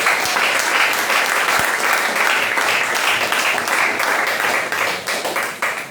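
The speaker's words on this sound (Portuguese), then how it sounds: "Vamos receber o nosso pastor louvando a Jesus com salmo de palmas." A church congregation claps hands in praise during a deliverance service, a dense, steady burst of many hands filling the room and fading slightly toward the end.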